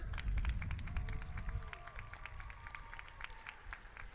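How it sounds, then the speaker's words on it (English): A crowd applauds at an awards ceremony with steady, dense clapping that fades slightly over several seconds, heard from a distance in a large room. "let's give another round of applause this year to all of our Caliber Award sponsors"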